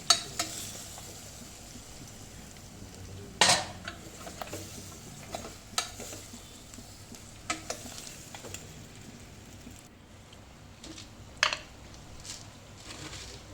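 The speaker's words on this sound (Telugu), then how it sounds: "ఇప్పుడు కుక్కర్లో అయితే మనము బొక్కలు అయితే వేసేసుకోవాలి వేసుకొని కలుపుకుందాం" Mutton bones being stirred in a pressure cooker with oil, salt and turmeric, giving a soft sizzle under scattered scraping clinks of a spoon against the pot.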